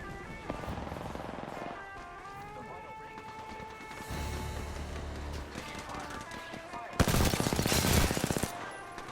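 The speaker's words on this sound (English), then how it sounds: "I took position, set up shop, and opened fire." Rampart's Sheila minigun from a first-person shooter fires in rapid bursts, building to a loud, dense volley near the end, with game music and effects underneath and a voice talking in places.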